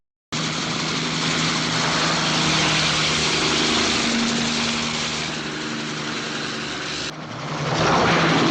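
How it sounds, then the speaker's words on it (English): A Spectre helicopter attacking James Bond in the 1963 film From Russia with Love, a loud continuous engine and rotor drone that holds steady, dips slightly, then surges louder after a brief cut. "this one where Bond is attacked by a Spectre helicopter"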